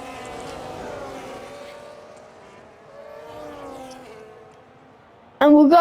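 A Formula 1 car screams past at speed at Monza, its high engine note rising and falling in pitch as it sweeps around a corner, then a second car's whine follows, with a commentator talking over it.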